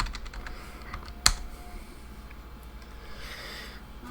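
A root login password typed on a computer keyboard, a run of soft rapid keystrokes with one sharper clack partway through, close and fairly quiet, no speech.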